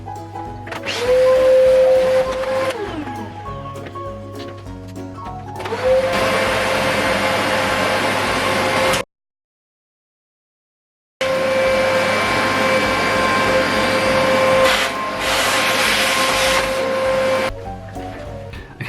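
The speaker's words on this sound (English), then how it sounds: "I'm gonna have to vacuum it up." A vacuum cleaner runs indoors to suck up a large spider, a loud steady whirring drone that rises as the motor spins up. It cuts out briefly, then starts again and runs on with no talking.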